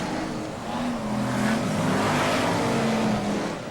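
BriSCA Formula 1 stock cars racing at Kings Lynn in 1995, a steady loud engine roar that swells as the pack comes through, sustained across the whole stretch with no talk.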